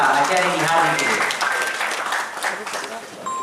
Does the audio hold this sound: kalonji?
no